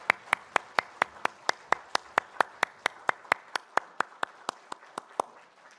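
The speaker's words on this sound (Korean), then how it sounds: "하나님께 영광의 박수 올려드리겠습니다." A church congregation claps in a steady, even rhythm during a Sunday worship service, about two dozen crisp claps at a moderate pace with no talking over them.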